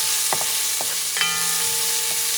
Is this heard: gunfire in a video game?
no